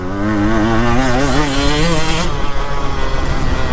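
A KTM EXC 150 enduro motorcycle revs hard on a sprint track, its two-stroke engine buzzing and climbing in pitch close to the rider, then cutting off abruptly partway through.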